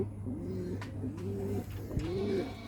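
Giribaz pigeons coo close by in a steady series of low, rolling calls, repeating about once a second over a constant low hum.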